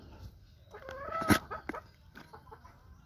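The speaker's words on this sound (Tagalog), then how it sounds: "Magpainom ako guys ng alagang manok." Pet chickens at a water dish give a few soft clucks and a brief louder squawk, close and faint over a low background.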